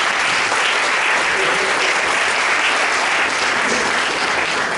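A church congregation applauds steadily at a Sunday worship service, dense even clapping from a crowd filling the whole stretch at a constant level, with faint voices mixed in.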